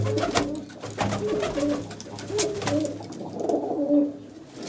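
Pigeons in a Punjabi loft coo repeatedly in a steady, close rhythm, the low throaty calls overlapping one another with faint background rustle.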